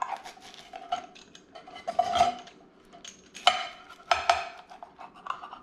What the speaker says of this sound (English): Let's get a cut into this pizza because everyone always wants to know.